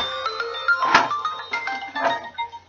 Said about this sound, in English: And that's my phone you're hearing right now.